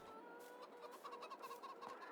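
Chickens in the farming game Farming Simulator 22 give soft, repeated clucks in a quiet barnyard, a short run of close, faint bird calls with no talking.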